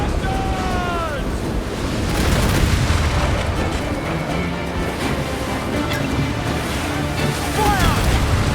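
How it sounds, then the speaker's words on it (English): Cannon broadside booms roll out from a sailing ship in Assassin's Creed Black Flag, a dense, continuous barrage of loud, low blasts over sea and wind noise, with shouted voices and a distant wail mixed in. "Unload all the shot we have! Fire!"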